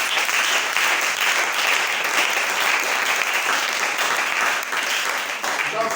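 A church congregation applauds continuously and densely, a steady wash of clapping hands throughout, fairly close and full, with no talk over it.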